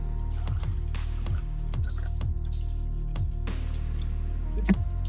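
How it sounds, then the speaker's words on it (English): Masala saffron chai is poured into a cup in a steady, close, quiet trickle, with soft liquid splashes and a brief louder slosh near the end, no talking. "I'm gonna pour myself a beautiful cup of masala saffron chai."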